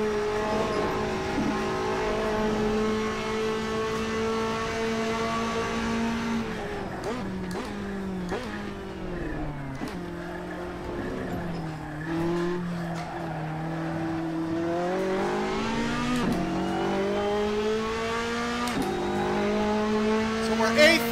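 Race car in the Assetto Corsa driving game, its engine note climbing and dropping through gear changes with tire squeal mixed in, loud and continuous throughout.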